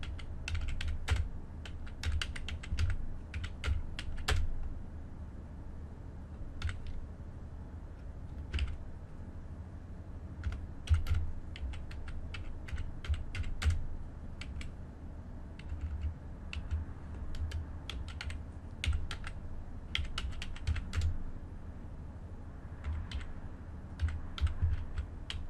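Keys tapped on a computer keyboard in a quiet room, with irregular bursts of quick clicks broken by short pauses, close and fairly soft.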